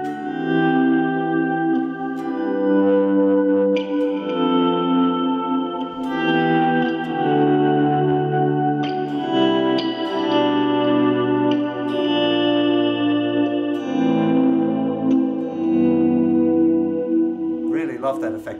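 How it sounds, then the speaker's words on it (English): Electric guitar played through a chain of effects and an ODR1 distortion pedal, sustained overdriven chords ringing with chorus shimmer and echo, loud and continuous for the whole stretch, with no talking. "I'm just kicking in the ODR1, which is a fantastic, it's definitely the best value distortion pedal"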